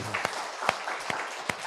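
Church congregation applauding an elderly deaconess inside the sanctuary, a fairly faint, sparse patter of claps with a few sharper individual hits standing out over a low room hum.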